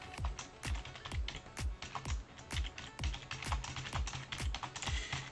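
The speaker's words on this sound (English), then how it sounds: "Forgive me, I'm typing." Someone types on a computer keyboard, a steady run of crisp, evenly paced keystrokes close to the mic. The clacking is quiet and no voices are heard.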